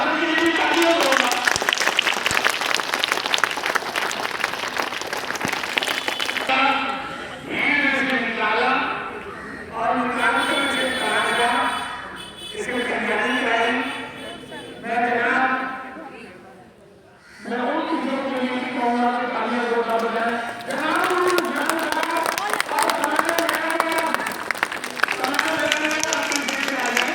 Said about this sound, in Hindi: इनके फादर के लिए भी तालियां होगा।